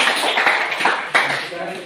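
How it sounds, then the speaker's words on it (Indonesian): A classroom applauds a presenting student group, with a burst of clapping from many hands mixed with voices, a fresh flurry midway before the clapping thins out. "Ya, kita tepuk tangan kepada kelompok 2."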